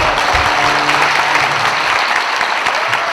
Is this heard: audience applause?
yes